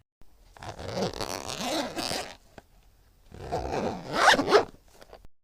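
A school bag zipper is pulled shut in two quick, close strokes separated by a short pause, loud and clear against a silent background.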